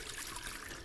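Brief soft trickle of cooking liquid from a rooster braised in red wine being poured out through a sieve, faint and continuous with no speech.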